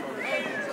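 A long-haired cat at a cat show gives a single short, clear meow close by, against a quiet hall background.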